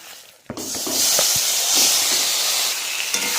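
Marinated meat dropped into hot oil with dried red chillies, bursting into a loud, sustained hissing sizzle after a quiet moment and a clatter, with occasional stirring knocks underneath.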